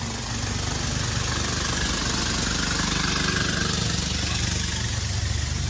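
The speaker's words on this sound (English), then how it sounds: "You hear that? That's the sound of a motor." A motor runs aboard an NGR 753 passenger train in Queensland, a steady, loud, rumbling engine drone close by with a slight swell midway and no talking.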